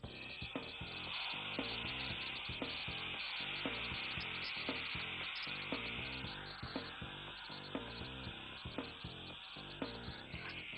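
Ground mint paste frying in oil in a pan while mint chutney is made, a steady sizzle with repeated scraping and stirring strokes against the pan.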